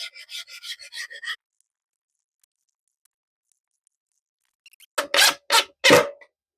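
Rasping strokes of sanding on the edge of a flame maple guitar body, a quick burst of scrubbing at first, then silence, then four louder, slower sanding passes close by.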